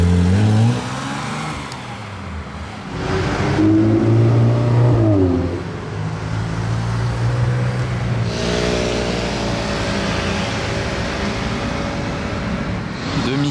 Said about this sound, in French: DB12 volante qui passe dans mon dos